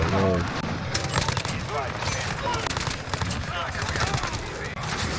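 Rapid bursts of automatic gunfire from a Bizon submachine gun in Call of Duty Modern Warfare, loud and continuous throughout, with a player talking over the shooting.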